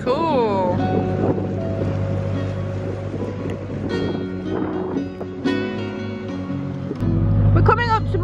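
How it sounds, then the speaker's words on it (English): Wind buffets the microphone aboard a narrowboat in winter with low rumbling gusts, heaviest toward the end, while people talk and the boat's engine drones nearby. "It's very windy."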